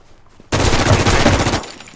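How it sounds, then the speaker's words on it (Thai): Gunfire in the battle royale video game Infestation: a sudden loud burst of rapid automatic fire lasting about a second, close and dense, then cutting off abruptly. "เอ้าพี่ยิงเขาทำไม"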